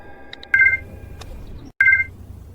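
A telephone keypad dials an emergency call to 110: a few quick faint tones, then two distinct loud dialing beeps separated by a short pause, over a quiet background.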